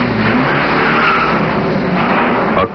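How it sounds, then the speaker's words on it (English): Steady stream of cars rolling out of the Ford River Rouge / Dearborn assembly plant in the 1960s, a continuous loud wash of engine and tyre noise with no pauses, ending in a brief sharp rise. "A car is born and joins the ceaseless flow of other cars as they leave the assembly plant."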